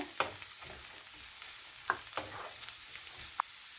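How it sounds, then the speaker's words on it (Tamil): Carrots, beans and green peas sauté in a pan, a close crackling sizzle broken by several sharp scrapes and knocks of a spoon stirring. "இப்போ இதை நல்லா வதக்கி விட்டுருங்க"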